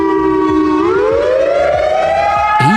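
A civil defense warning siren wails loud and close, its tone sliding upward and then holding in a long, sustained rise.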